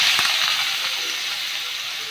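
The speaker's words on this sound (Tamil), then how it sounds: "வெங்காயம் கொஞ்சம் கண்ணாடி ஆகிற வரை வதக்கி எடுத்துக்கோங்க" Chopped onion sizzles and hisses steadily in hot oil in a pan, a close, soft frying sound with a light clink at the start and no talking.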